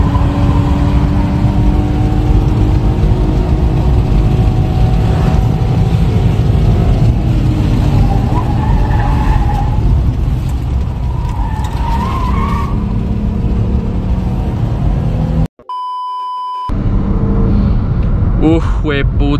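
A BMW M3 E92 races on a street with loud, sustained engine roar and skidding tyre squeal, briefly cutting out near the end, while someone talks excitedly over it.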